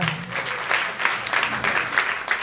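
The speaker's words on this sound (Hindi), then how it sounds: "जोरदार तालियां।" Loud applause from the audience at an Arya Samaj annual celebration in Noida, a steady burst of many hands clapping close by with slight swells, continuing through the whole moment.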